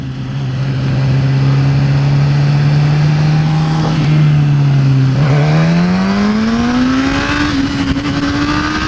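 A 2016 Suzuki GSX-S1000 1000cc motorcycle rides slowly in first gear, its engine humming close and loud at a low steady pitch, then rising as it pulls away and settling again.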